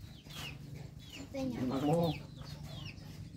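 Chicken clucking near a rural Thai home on a morning before rice transplanting, several short clucks under steady background noise while a person talks briefly.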